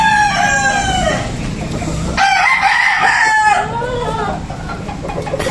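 A Boston Gray bull stag gamefowl rooster at a gamefowl expo crows once, a loud, close, drawn-out cock-a-doodle-doo that rises and falls over a busy background of clucking fowl and crowd murmur.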